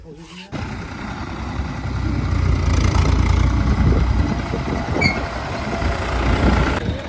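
Old 1970-model tractor engine idling steadily, a continuous low rumble that swells slightly and stays fairly close, with no talk over it.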